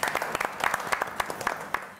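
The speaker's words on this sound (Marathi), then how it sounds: "सो एकदा परत तुमच्यासाठी टाळ्या" Applause from a studio audience on a Marathi TV game show, a steady patter of many hands clapping with sharp individual claps standing out, fairly close and continuous for the whole stretch.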